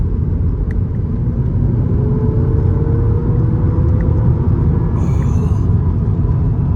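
A VW Polo GTI engine in sports mode makes a steady low drone with road rumble from inside the cabin, a faint rising whine as it pulls, and no voices.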